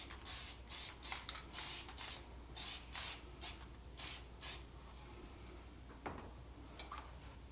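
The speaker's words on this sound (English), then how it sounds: "I'm going to spray on some lacquer now," Short hissing bursts of lacquer spray from an aerosol can, repeated in a steady rhythm of quick sprays, close by and fairly quiet, with no voices.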